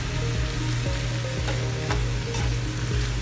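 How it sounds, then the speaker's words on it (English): Mushrooms and spinach sautéing in a pan for a vegan breakfast wrap, a steady loud sizzle with a continuous low hum and occasional utensil taps, close and without talk. "we're gonna go ahead and saute this"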